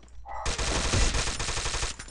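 Rapid automatic gunfire from the video game Free Fire, a loud sustained burst of shots that starts abruptly after a short tone and runs close to the end, with no talk over it.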